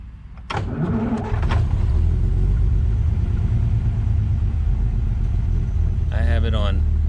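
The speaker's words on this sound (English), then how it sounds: "So now when we start the engine," A pre-war Rolls-Royce with a three-brush charging system cranks briefly, catches, and settles into a steady low idle close by, with someone talking over the running engine.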